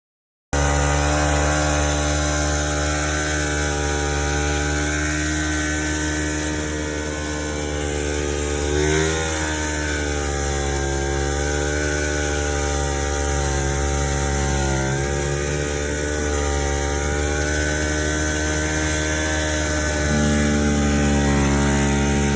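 A vintage 1970 snowmobile with a Sachs engine and old exhaust runs continuously, a loud, steady buzzing drone with slight pitch dips as the throttle wavers, close and unbroken throughout.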